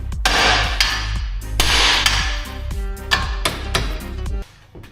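Hammer striking a car gearbox part, a series of sharp ringing metallic blows at an uneven pace, loud and close, each hit trailing a brief resonant ring before it stops.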